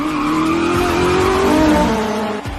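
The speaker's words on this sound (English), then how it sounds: "Behind me, the roar of other race cars grew closer." Several race cars roar past at a championship race finish, a loud continuous engine drone with rising and falling pitch sweeps and a hint of tire squeal, no talking.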